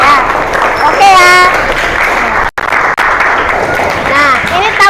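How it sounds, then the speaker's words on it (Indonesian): Schoolchildren in a classroom clap together in a steady, continuous round of applause, with teacher and pupil voices talking over it throughout. "kita kasih apresiasi untuk kalian semua dengan tepuk tangan"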